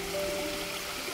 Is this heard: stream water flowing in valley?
yes